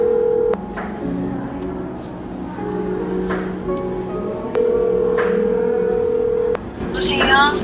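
Telephone keypad tones sound during a prank phone call, several short evenly pitched beeps in a sequence with brief gaps, fairly loud and close, with a faint burst of other noise near the end.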